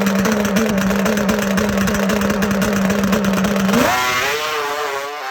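A racing two-stroke motorcycle ridden hard on track at the Two Stroke Nationals holds a steady, loud high-revving wail, then the throttle chops off and the pitch sags and wavers as the engine falls back.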